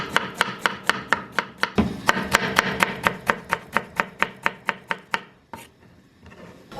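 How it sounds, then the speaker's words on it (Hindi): A knife finely chops a small piece of ginger on a board for Karachi chicken biryani, giving a steady run of about twenty crisp, evenly spaced taps that stop near the end, close and loud, with no talk. "तो ये अदरक का छोटा सा टुकड़ा भी काट लेते हैं बारीक बारीक"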